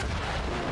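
A booming explosion in the video game Greedfall fills the short moment with a dense, loud rumble heard alone.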